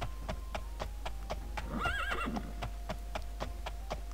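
A horse neighs once with a rising, wavering whinny in the Daggerfall video game, set against steady rhythmic hoofbeats and a low constant hum.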